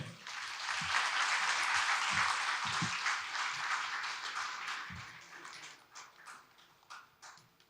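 An audience at a BRICS Friendship Cities Conclave inaugural session applauds after the Deputy Chief Minister's address: a dense burst of clapping that holds steady, then thins into scattered claps as it fades.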